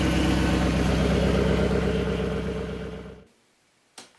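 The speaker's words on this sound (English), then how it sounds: "Rev it up." A car engine revs hard and steadily for about three seconds, then cuts off abruptly into near silence, followed by a short knock near the end.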